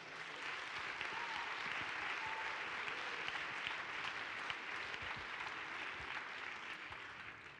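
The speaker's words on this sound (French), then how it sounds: "On peut encore une fois les applaudir." An evening audience at a women's parliament event in a hall gives sustained, even applause, a dense wash of many hands clapping at moderate distance with no voices standing out.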